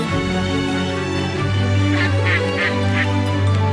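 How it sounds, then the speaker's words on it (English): Ducks and geese quacking and honking in a short run of repeated calls, heard fairly close over steady background sound and a low sustained tone. "Can you hear the ducks?"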